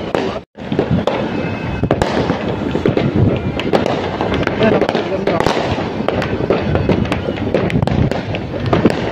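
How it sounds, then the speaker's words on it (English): Dense New Year's fireworks crackle and pop continuously, many bursts overlapping near and far, with voices faintly mixed in. "Dami dito magaganda fireworks here"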